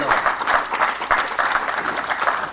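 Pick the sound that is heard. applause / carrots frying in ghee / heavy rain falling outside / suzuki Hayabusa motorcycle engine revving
applause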